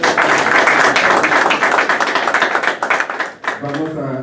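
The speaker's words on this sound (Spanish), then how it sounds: "Lo recibimos también con los aplausos" Audience applauding to welcome a speaker at a health sector workers' union assembly, a dense burst of clapping from a large crowd that thins and fades out, with a voice starting to speak at the end.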